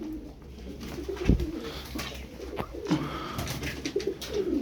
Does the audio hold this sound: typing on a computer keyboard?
no